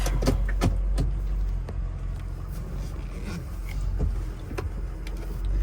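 A lifted 2005 Ford F250 Lariat FX4 pickup rolls along, its steady low rumble broken by several sharp clicks and knocks from inside the cab, with no one talking.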